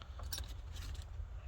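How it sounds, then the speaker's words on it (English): A bunch of assorted aftermarket and factory car keys on a ring jingling softly and close by, with light metallic clinks at a salvage yard over faint background rumble. "bunch of random keys"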